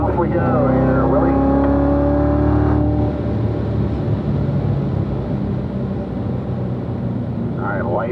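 Car accelerating hard down the straight at Spring Mountain race track, a loud continuous engine roar with rising pitch close to the mic, overlaid by instructor speech throughout.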